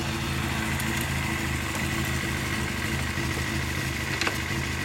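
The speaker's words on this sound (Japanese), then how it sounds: "SR、エンジンかけようか。" A Yamaha SR400/SR500 single-cylinder motorcycle idles steadily after being started, a continuous moderate rumble close by with no speech over it.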